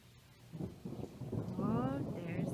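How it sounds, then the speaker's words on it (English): Thunder from an evening storm rolls in as a low, building rumble growing steadily louder, heard outdoors at a distance with faint ambient noise. "Oh, there's the thunder."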